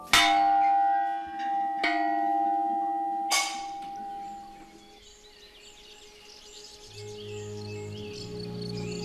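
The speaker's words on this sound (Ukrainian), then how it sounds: "На вершині восьмиповерхової вежі розташовується баштовий дзвін." A tower bell hangs atop an eight-storey castle tower and is struck three times, ringing out loud and close with long humming decays, then fading into a quiet outdoor background of birds and insects.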